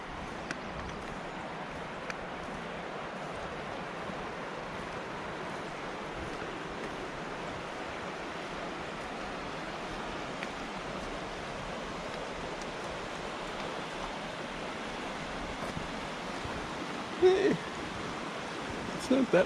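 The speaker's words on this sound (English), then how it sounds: "you can hear that river going." A dammed, partly controlled river flows steadily nearby, its broad even rushing wash constant throughout, with a couple of brief louder knocks near the end.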